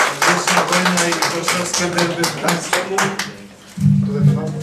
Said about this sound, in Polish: Brawa dla kibiców Polonii!